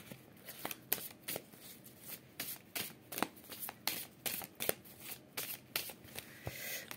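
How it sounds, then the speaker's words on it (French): Tarot cards being shuffled and drawn: a steady run of quick, soft riffling flicks and slaps, close and fairly quiet, with no talking. "je vais prendre 3 cartes"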